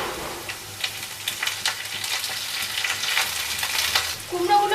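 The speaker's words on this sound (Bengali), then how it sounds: "কুমড়োগুলো ভাজা হয়ে গেছে।" Pumpkin pieces and slit green chillies fry in hot oil for a Bengali pui shak dish with prawns, a steady close sizzle with crackling bursts and occasional stirring scrapes, no voices.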